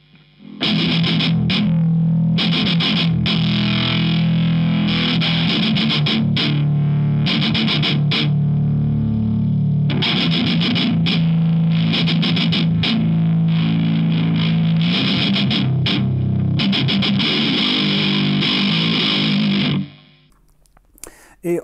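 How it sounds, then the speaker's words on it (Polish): Palm-muted distorted electric guitar playing a chugging chorus riff from a song, picked with the hand lifted off the bridge so notes ring fat; loud and continuous with short rhythmic gaps, alone, ending in silence. "trzeba stłumić gitarę, uderzyć ją kostką, ale oderwać rękę od mostka, żeby ona jeszcze wybrzmiała"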